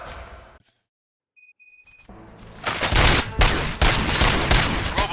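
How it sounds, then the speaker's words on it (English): Gunfire breaks out in the video game RoboCop: Rogue City, a dense, loud fusillade of rapid shots that starts after a short quiet gap and keeps going to the end, alongside a few electronic beeps. "Gunshots? What's going on?"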